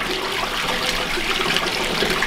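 Steady water pours from the outlets of a homemade filter on an indoor catfish pond, a constant loud rushing flow with no pauses.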